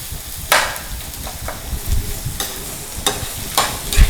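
Beef stir-fried in a pan with salt, sizzling steadily while a spatula scrapes and clacks against the metal in several sharp strokes, close and moderately loud with no talk.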